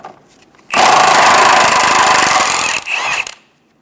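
A power tool with a 14 mm socket runs on the rear lower transmission mount bolts of a 2003–2007 Honda Accord 3.0L V6, a loud close mechanical burst of about two seconds that drops, briefly revs again and stops.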